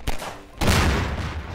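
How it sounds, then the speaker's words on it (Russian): Fireworks salute set off in Garry's Mod, heard as two loud bursts of crackling blasts, a short pop followed by a longer dense barrage close by, with no talking. "Салют с гусем Саньком"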